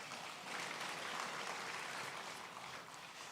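Faint, steady applause from a lecture audience at a 2023 presidential inauguration event, a continuous wash of distant clapping with no break.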